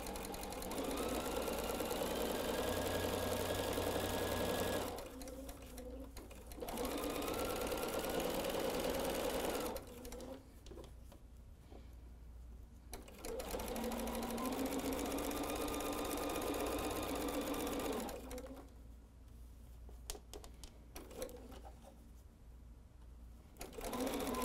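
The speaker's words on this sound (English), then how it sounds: "let's go ahead and go to our machine, and I'm just going to sew a standard quarter inch seam allowance." Sewing machine stitching a standard quarter-inch seam on a pieced fabric table runner, running steadily in three long bursts separated by pauses with quiet handling, close and fairly quiet.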